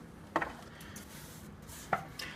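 A knife strikes a cutting board twice while a jalapeno is seeded and prepped, giving two crisp, fairly quiet chops with soft rustling between them.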